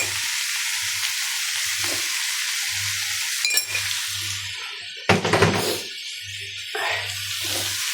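Vegetables fry in a pan with turmeric and cumin powder, giving a steady hiss of sizzling oil with soft stirring scrapes and a few louder clatters of a spoon against the pan.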